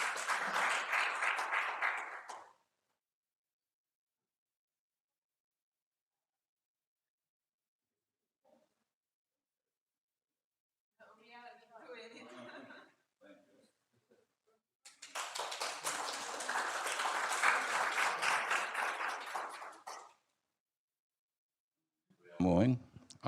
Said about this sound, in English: Once more, applaudisement.